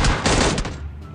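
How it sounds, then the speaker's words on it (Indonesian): Rapid bursts of gunfire in the PUBG Mobile video game on the Sanhok map, loud and dense for most of the moment before thinning into a fading tail. "Nembak dari mana kamu?"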